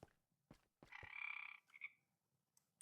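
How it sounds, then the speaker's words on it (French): Frog croaking in a video game: one rattling, buzzy croak with a short trailing chirp, preceded by a few soft clicks, heard alone without talk. "Oh, grenouille."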